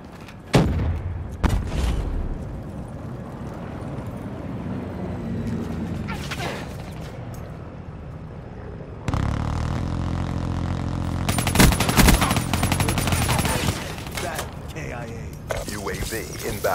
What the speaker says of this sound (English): Incoming nade!